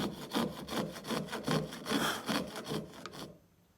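Hand saw cutting through a sheet of cellulose acetate, a series of close rhythmic rasping strokes about twice per second that stop abruptly near the end.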